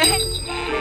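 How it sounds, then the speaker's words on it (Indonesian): A bright, ringing cartoon bell effect from Doraemon, its bell being snatched away, sounds in one short, loud burst with a steady sustained tone. "tangan misterius itu malah ngopepang mengarah pada satu benda yang menurut kita sangat tidak berguna sama sekali, yaitu nyolong loncengnya si Emon"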